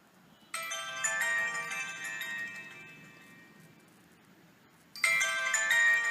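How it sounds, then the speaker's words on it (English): An HTC Android phone ringtone plays a bright electronic melody for several seconds, pauses briefly, then starts again, loud and close with no talking. "You can just click on ring and it will just ring."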